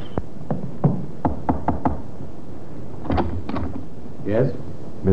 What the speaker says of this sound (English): The sergeant knocked on the door of the second floor in front.